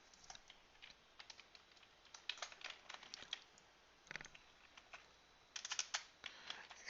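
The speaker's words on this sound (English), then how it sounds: "I'm going to type confirmed cases" Quiet, close typing on a computer keyboard while entering series names in an Excel chart: uneven runs of soft key clicks with short pauses between words, heard alone.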